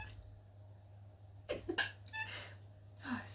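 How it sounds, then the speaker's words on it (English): A single sneeze bursts out after a quiet stretch, followed by a short breathy sound, close to the microphone over a low steady hum. "Oh, I'm gonna sneeze."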